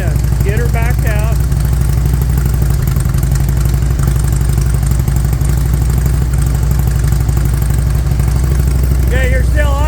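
A 2001 Harley-Davidson Electra Glide V-twin idles steadily and fairly fast after a carburetor tune, its low rumble loud and continuous, with a person talking over it now and then.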